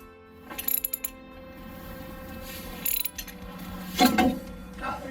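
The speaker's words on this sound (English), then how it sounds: "And then we'll grab the ratchet. And we'll just keep twisting until we hear a pop." A ratchet wrench turns on a Toyota brake assembly during a brake and rotor job, giving short bursts of rapid clicking near the start and a few louder rattling clicks later over a steady low hum.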